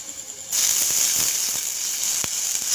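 Water poured into a hot pan of frying egg, bursting into a loud, sustained hiss and sizzle right up close, with a few small crackles and pops.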